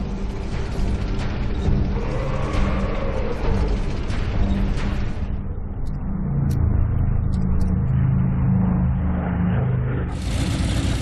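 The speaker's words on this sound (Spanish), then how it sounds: "Los carros alemanes ponen rumbo a Stalingrado." German tanks roll toward Stalingrad in 1942 with a heavy, continuous rumble and clanking tracks, loud and close, as squeaks and mechanical rattles ride over the grinding engine drone.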